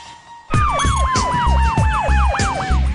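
An ambulance siren wails loudly and close, its rising and falling tone sweeping repeatedly alongside a steady higher tone, with heavy low rumbling pulses beneath, starting abruptly after a brief quiet moment.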